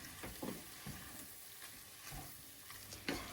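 Flour is stirred in a pan over low heat, giving a faint, soft scraping and shuffling with a quiet sizzle underneath and a few brief knocks, with no voices.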